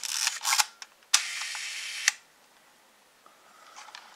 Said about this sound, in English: you could actually fire the shutter that way too